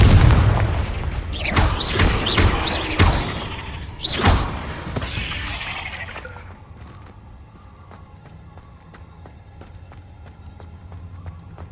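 Confringo explosion spells cast in a Hogwarts video game: a run of loud booming blasts with crackling bursts over the first six seconds, fading into a quieter rumbling ambience with faint scattered clicks.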